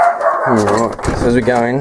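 Dogs bark indoors close by, several quick yaps over and between a voice as he talks while walking into a house.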